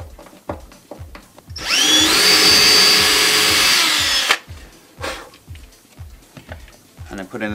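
A power drill whirs loudly and steadily for about two and a half seconds, driving Euro screws into the side of a kitchen unit to fix a soft close drawer runner mechanism, with quieter handling knocks before and after.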